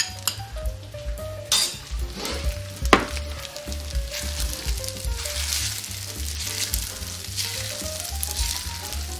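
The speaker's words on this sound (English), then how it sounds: "I'm just taking these eggs, gonna beat them up really quickly, and we're gonna cook those right on top of the rice" Beaten eggs sizzle and fry on top of chicken fried rice in a pan, a steady crackling hiss with repeated clinks and scrapes of a utensil stirring vigorously against the pan, close up with no talk.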